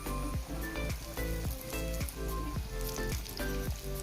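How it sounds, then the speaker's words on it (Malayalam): Parippu vada, lentil fritters, deep frying in hot oil, giving a steady close sizzle and crackle with no talk. "ഇടയ്ക്ക് നമുക്ക് തിരിച്ച് മറിച്ചിട്ട് ഫ്രൈ ചെയ്തെടുക്കാം കേട്ടോ."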